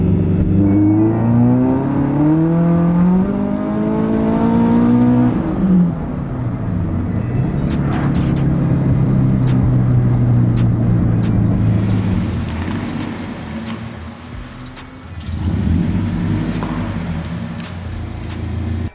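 Car fitted with an HKS supercharger revving loudly on its first start, engine note sweeping up and down in rising revs, then settling into a steady drone and a further rev near the end, close and continuous.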